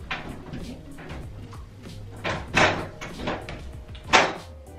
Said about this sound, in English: I'm gonna open up this door